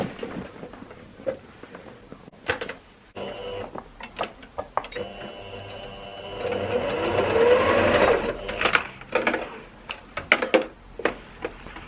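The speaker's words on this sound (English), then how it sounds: "I'm going to give it a stitch straight down." A sewing machine stitching a straight seam down shorts fabric, a sustained rapid mechanical whir lasting a few seconds, between clicks and handling noises, with a person speaking around it.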